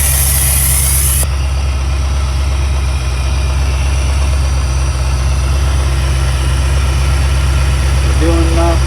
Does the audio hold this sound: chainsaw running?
no